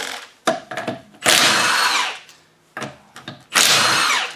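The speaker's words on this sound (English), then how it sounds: "Pretty simple, 3/4 impact." A 3/4 inch impact wrench spins wheel lug nuts off a GM front-wheel-drive car, firing in two loud hammering bursts of about a second each, each preceded by short clicks and brief rattling.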